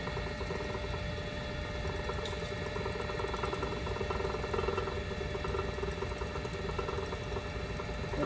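Buttonhole sewing machine stitching test buttonholes, a rapid, steady mechanical clatter with a faint hum, running continuously at close range without talk.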